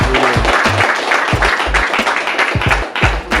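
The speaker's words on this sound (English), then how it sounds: "So we have to go yourself a round of applause." Group applause among people gathered in Trench Town, Kingston, uneven hand claps and taps with sharp individual slaps standing out over a busy outdoor background, close and loud.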